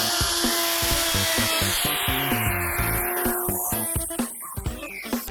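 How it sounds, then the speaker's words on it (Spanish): A wood router cuts a bevel along the full length of a wooden board: a loud, steady high whine with a grinding cutting texture. Near the end it drops into a few sharp clicks and bumps as the tool slows. "lo que vamos a hacer es hacer un bisel en todo este largo de la madera"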